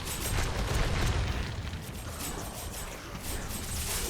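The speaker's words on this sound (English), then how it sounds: "can we get some explosions?" Explosions in the video game Night of the Dead, a dense, rumbling wash of booms and blasts that swells loudly and then holds as a continuous roar, with no voices over it.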